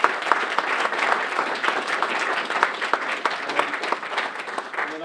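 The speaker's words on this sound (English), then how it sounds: "One more round of applause for all of them." A crowd applauds steadily for several seconds, a dense patter of clapping that stays even throughout.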